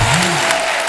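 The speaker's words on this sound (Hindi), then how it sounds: "एक जोरदार तालियां हो जाए यार" Studio audience at Kapil's comedy show breaking into applause, a brief dense burst of clapping and crowd noise, loud and close with a voice briefly over it.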